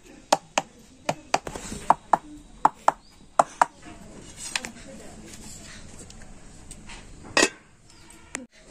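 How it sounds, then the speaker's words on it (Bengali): Steel bowls half-filled with sponge cake batter are tapped on a surface, giving a run of about ten sharp metallic knocks in a quick, even rhythm, then a pause and one more clank near the end, close and clear. "এবার আমি এই বাটিগুলো একটু ঠুকে নেব এইভাবে।"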